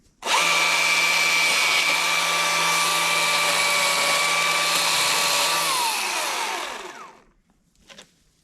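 An EGO CS2005 20-inch electric chainsaw cuts through a softwood blowdown with a high, steady whirring whine under the cutting noise, then winds down and stops, followed by a faint knock.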